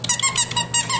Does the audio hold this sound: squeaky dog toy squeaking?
yes